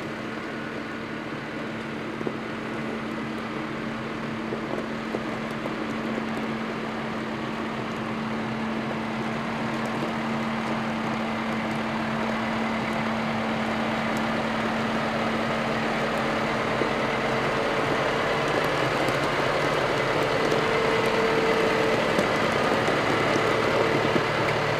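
A Case IH Quadtrac 620 tractor engine runs in low gear while manoeuvring slowly around a farmyard, a steady low diesel drone with a constant tonal hum and gradually rising loudness, without speech.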